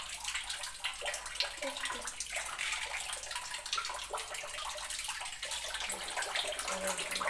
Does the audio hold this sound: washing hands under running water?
yes